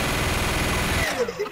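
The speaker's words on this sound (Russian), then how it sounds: "они поставили в конце туннеля гигантскую пушку и стреляют" A giant cannon fires from the end of a tunnel in Garry's Mod, heard as a rapid, loud burst of repeated blasts that cuts off after about a second into faint trailing sounds.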